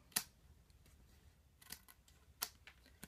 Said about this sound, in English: let's go ahead and trim off any overhang